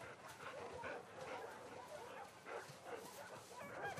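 A dog in The Last of Us Part 2 gives faint yips, whimpers and short barks at low volume under a murky game soundscape, with quiet voices speaking.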